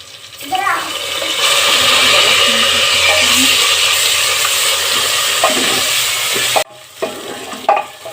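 Ginger and garlic fry with bay leaf, garam masala, cumin and dried chili in a pan for a spicy chicken and potato dish, giving a loud, continuous sizzle with stirring scrapes that stops abruptly, followed by a few utensil knocks.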